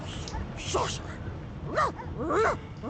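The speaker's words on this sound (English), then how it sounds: "The dog whines and continues" A dog whimpers and whines in a Divinity Original Sin 2 scene, with several short, rising whine calls close by and a voice talking over them.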